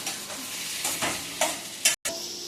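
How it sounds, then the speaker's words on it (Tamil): Cashews are stirred and roasted in a pan, with a low frying hiss under several distinct scraping strokes of a spoon, then a brief cut and a faint tone. "கேஷ்யூ இதெல்லாம் எடுத்து உள்ள போட்டுடலாம் கைஸ்."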